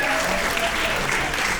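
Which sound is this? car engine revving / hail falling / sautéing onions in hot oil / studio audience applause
studio audience applause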